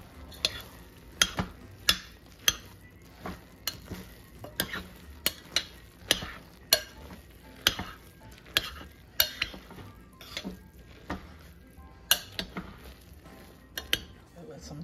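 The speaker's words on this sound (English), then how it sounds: "And now you're just gonna stir it." A spoon stirs breakfast burrito filling in a slow cooker, making repeated sharp scrapes and clinks against the pot at an uneven rhythm, close and fairly quiet, with no talk.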